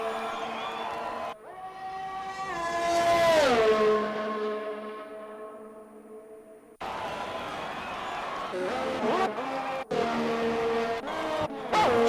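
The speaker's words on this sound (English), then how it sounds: "Just seen a car go onto the track." Racing car engines in an Xbox F1 game at the Italian Grand Prix, a rising then falling whine as a car sweeps past, followed by steady engine drone with shifts and brief breaks.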